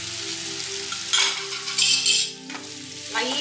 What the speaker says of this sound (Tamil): மஷ்ரூம் லைட்டாக அந்த மஷ்ரூம் வேகிற அளவுக்கு நம்ம இதை சாட்டே பண்ண போதும்